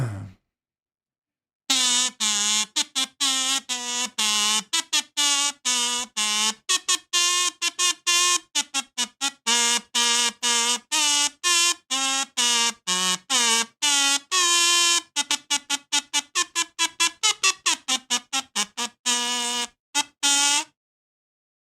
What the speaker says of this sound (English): This kazoo salute is for you.